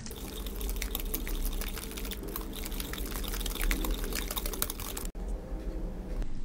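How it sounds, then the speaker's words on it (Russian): Milk pours steadily into a bowl of beaten eggs, salt, sugar and flour for a carrot casserole, a continuous close liquid splashing with no talk. "Вливаем молоко."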